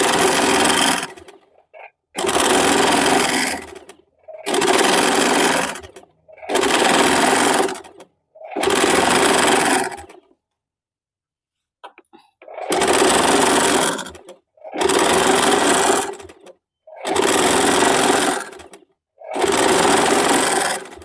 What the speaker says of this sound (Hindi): सीधे में मशीन चला लीजिए।